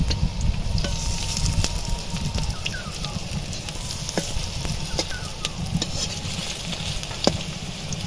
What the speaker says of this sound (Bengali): দুই পিঠ ভালো করে লাল লাল করে ভেজে নিয়েছি